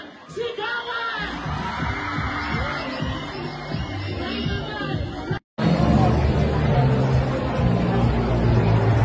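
A large live-show crowd of about 19,000 claps and shouts loudly and continuously, with whoops, yells and babble rising over one another, briefly cut off by a sudden silent gap before the roar resumes.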